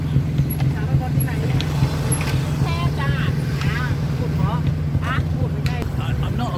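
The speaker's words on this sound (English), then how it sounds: "getting in a tuk-tuk" A tuk-tuk ride through Chiang Mai: a continuous low motor drone with wind rumble and traffic noise, while voices talk over it during the ride.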